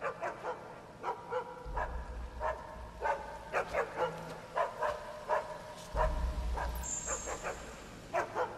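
A guard dog in the video game Assassin's Creed Chronicles: China barks repeatedly as an alarm, a fairly even string of sharp barks over low game ambience, with a brief high chime near the end.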